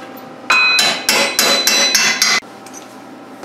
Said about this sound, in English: use a long punch with a hammer, come up from underneath and tap this out